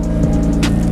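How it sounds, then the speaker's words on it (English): A turbocharged Honda Integra GSR engine idles roughly and loudly with no exhaust fitted, a steady low rumble with a brief hissy burst near the end. "I'll do the sound test. As you can see, there's no exhaust on it right now."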